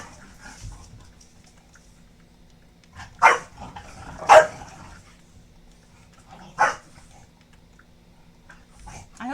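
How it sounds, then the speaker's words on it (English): Household dogs let out three sharp, separate barks spaced a couple of seconds apart, with soft panting and faint whimpering in between, fairly close in an otherwise quiet room. "I hope you guys enjoy my dogs barking"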